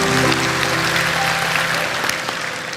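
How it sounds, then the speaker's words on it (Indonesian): A church congregation applauds a group of children with steady, dense clapping throughout, alongside a faint tonal hum and brief voices early on. "Kasih tepuk tangan untuk anak-anak ini."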